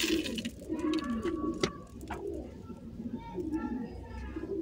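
Pigeons coo in soft, repeated throaty calls close by, with a voice talking over them.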